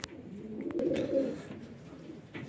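Racing pigeons coo softly in a loft, a low murmuring coo that rises in the middle and then fades, with a few faint chirps and no talking.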